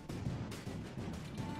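Cannons firing in the video game TerraTech: a quick burst of several heavy booming shots in rapid succession, loud and close, with no talk.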